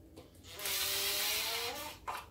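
A power driver spins briefly to tighten screws into the motor of a professional plaster mixer during servicing, producing a single rising, whining burst of about one and a half seconds, close and fairly loud.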